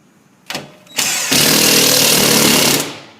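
A power tool drives screws to hold up an island range hood, starting with a couple of short bursts and then running in one loud, steady whir for over a second before winding down, close by and with no talking.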